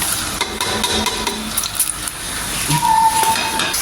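Chopped onions frying in about three spoons of oil, a soft continuous sizzle with light stirring and scraping in the pan, close and steady, with no talking.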